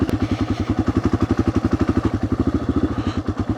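A Yamaha XT600 dual-sport single-cylinder thumps along at low speed with its rear wheel slipping, a rapid, even, pulsing beat with clattery mechanical texture, close and steady for a few seconds.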